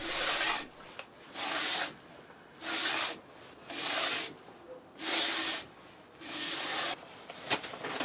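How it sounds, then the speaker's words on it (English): Sandpaper rubs across a surface-ground lapping bar in about six rhythmic, evenly spaced strokes. Each stroke is a loud, close, raspy hiss, with short pauses between. "Sandpaper first."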